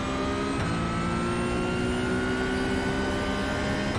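Porsche 992 GT3 Cup race car engine under sustained full throttle in the video game iRacing, a loud, steady high-pitched whine that holds through a corner without pause and cuts off abruptly at the end.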